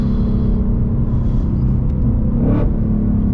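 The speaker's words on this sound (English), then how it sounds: "I'm gonna do a full second gear pull on this right now." A 2024 Ford Mustang GT V8 pulling hard through second gear, a loud, dense engine drone held steady from close inside the cabin, rising slightly near the end.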